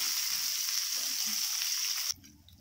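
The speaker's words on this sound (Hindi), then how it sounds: "पंपकिन को भी फ्राई कर लेना है।" Pumpkin pieces for khichuri fry in oil in a pan with a close, steady hissing sizzle that cuts off abruptly near the end, leaving faint soft clatter.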